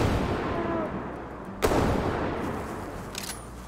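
A single sharp gunshot cracks out against a thick, constant roar of ambient noise in a prehistoric dinosaur video game, fired at a diamond-rated albino brachiosaurus.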